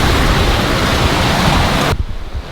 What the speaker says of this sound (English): Fast and smooth sailing!